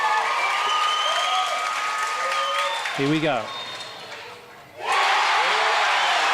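Stadium crowd at a women's field hockey match between Australia and China cheering an equalising goal, a loud roar that briefly drops away, then surges back to full volume, with a commentator talking over it.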